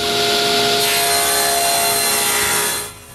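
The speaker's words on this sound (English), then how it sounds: "Cut it to the right size." Wooden piece being cut to size in a woodworking shop, a steady loud sawing rasp running about three seconds before it tails off, with no talk.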